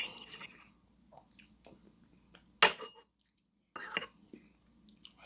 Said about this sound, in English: Hear the noise of eating food.